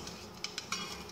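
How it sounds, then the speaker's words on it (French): Quiet metallic whisking of flan custard in a saucepan, a few light clinks of the whisk against the pan over a soft steady background. "Je reverse le tout dans la casserole en fouettant"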